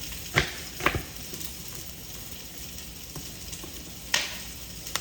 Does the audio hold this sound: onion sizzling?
yes